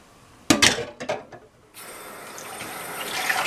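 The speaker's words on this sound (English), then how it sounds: "it's time to get my bowl of recently cooked noodles and dump them into the" Bowl of freshly cooked noodles tipped into a prepared pan for tuna casserole: a few sharp clatters and wet slaps, then a brief pause followed by a steady soft hiss and sizzle.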